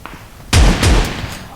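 Heavy shotgun blasts in the mobile battle royale BGMI, a loud booming shot followed by a second thump and echoing tail, close and punchy.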